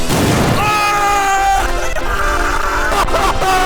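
A homemade exploding Halo gravity hammer replica fires with a sudden, loud, close boom. Excited shouting and voices follow right after the blast.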